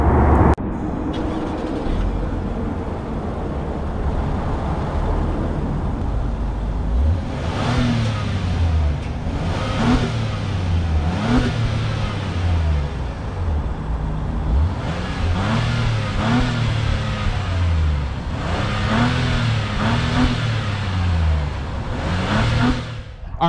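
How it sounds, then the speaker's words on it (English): 2022 Acura MDX Type S with a 3-liter turbocharged V6 and quad exhaust, revved repeatedly in sharp bursts that rise and fall, loud and close, with the engine idling between the pulls. "now that was the exhaust of the MDX Type S"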